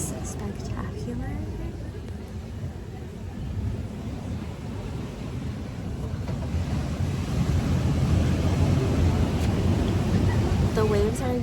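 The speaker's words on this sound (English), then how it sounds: "The waves are insane." Ocean surf at Laguna Beach heard from a seaside restaurant, a continuous low rumble of breaking waves mixed with wind buffeting the microphone, building slightly louder toward the end.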